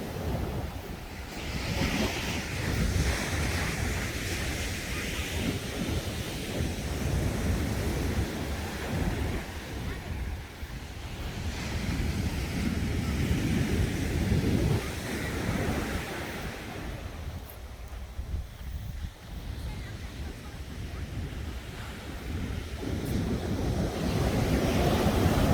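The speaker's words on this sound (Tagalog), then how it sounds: "ang ganda naman ng dagat" Sea waves wash steadily onto a beach, a broad rolling surf with swells that rise and fall over time, mixed with gusts of wind buffeting the microphone.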